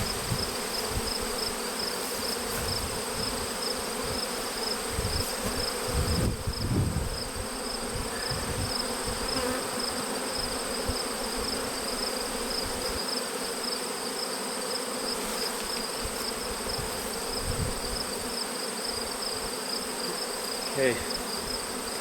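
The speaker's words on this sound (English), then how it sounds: "I got bees everywhere now" A loud, continuous buzzing drone of many honey bees swarming close by around an open hive, with occasional faint thumps and handling noises of frames.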